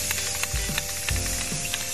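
Spray paint hisses from an aerosol can onto shelves, a steady close spray that runs almost continuously with a few short bursts and low thumps underneath.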